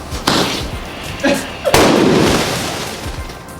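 A firework whose fuse caught on a stick goes off in a tube of beads under water, giving several heavy booming thumps, the last and loudest followed by a long rumbling wash of noise.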